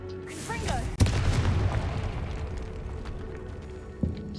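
A Confringo blasting spell from the Hogwarts Legacy video game goes off as a single sharp, loud boom with a rumbling tail. A second, smaller thud follows a few seconds later, over faint game ambience and a voice.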